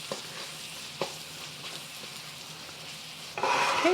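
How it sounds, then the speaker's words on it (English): Onions fry in a hot pan with a steady broadband sizzle and occasional stirring scrapes, growing louder and brighter near the end as the heat rises or something new hits the pan. "We want the onions to cook through"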